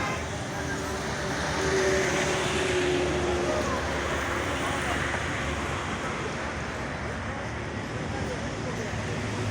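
The Madhumati Express pulls out of Mawa railway station, a broad continuous rumble of the moving train heard from the platform, steady and fairly close with a slight swell early on.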